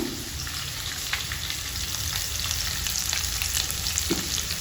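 Green chillies and onion frying in oil in a pan for green chilli pulao, a steady close sizzle with faint stirring scrapes.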